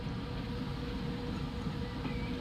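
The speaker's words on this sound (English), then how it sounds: "tram line working." A tram running in the Transport Fever 2 video game gives a steady, low rolling rumble of rail wheels with a faint hum. The sound holds at a constant level throughout, with no speech.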